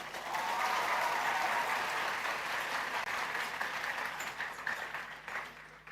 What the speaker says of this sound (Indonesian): Tepuk tangan untuk santri-santri kita.